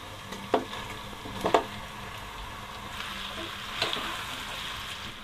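Cauliflower florets tipped into a pan where carrot and papaya are already frying, with a few sharp clattering drops near the start, then a steady soft sizzle, with no talking.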